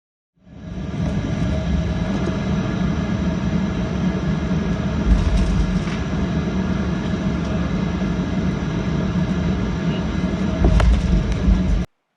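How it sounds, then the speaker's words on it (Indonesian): Steady droning cabin noise inside a passenger airliner before takeoff, a constant low engine hum and whine from a window seat, with a couple of brief louder swells and a soft bump near the end. "Yang barusan adalah tanda-tanda pesawat ingin terbang."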